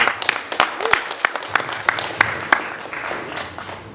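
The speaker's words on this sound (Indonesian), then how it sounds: "Kita berikan aplaus semuanya." Audience at a national seminar of BKPRMI in Bukittinggi breaks into applause, with a steady patter of many hands and sharp individual claps throughout, a faint voice also heard beneath it.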